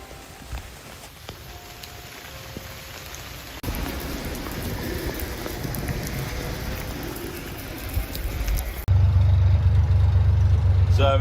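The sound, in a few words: rain falling at boatyard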